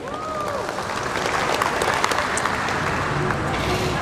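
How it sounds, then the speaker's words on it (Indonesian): Steady audience applause at the grand launch event of the TopScore app, dense and sustained throughout with crowd noise and faint voices mixed in. "Kasih tepuk tangan lagi."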